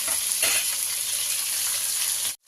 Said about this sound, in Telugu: ఇందులో కరివేపాకు కూడా వేస్తుంది సిమ్లో పెట్టుకుని ఫ్రై చేస్తుంది